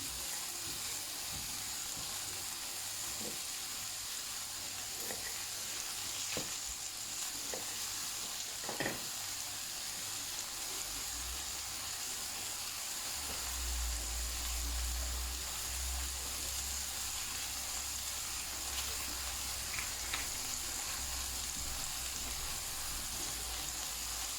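Onion sizzles while frying for chicken jalfrezi, a steady crackling hiss throughout with occasional stirring clinks, heard close and alone.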